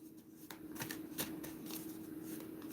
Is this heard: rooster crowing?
no